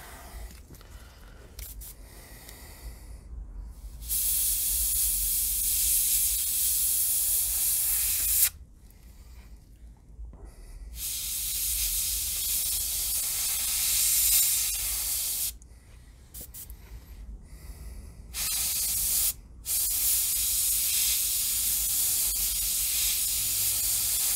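Paint sprays onto a mummy bust and the flat parts of its base in several long hissing bursts of differing length, separated by short pauses, close and fairly loud, with no voices.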